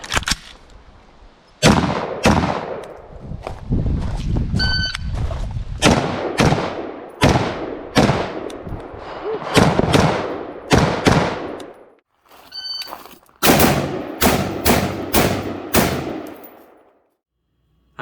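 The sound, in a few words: gunfire from an XM16E1 (M16) rifle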